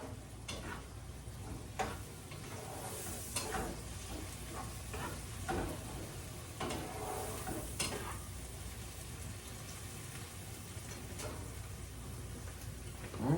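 A spoon stirs a milk, egg and flour mixture for a baked pepper corn casserole: soft, uneven scraping and tapping against the bowl, fairly faint and close, with a light clatter now and then.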